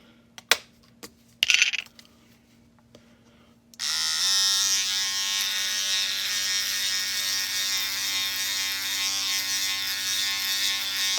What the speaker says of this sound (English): Get yourself a clipper set.